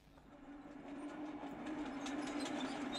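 A 1917 assault tank rumbles and clatters as it moves, with a mechanical hum that grows gradually louder over a few seconds.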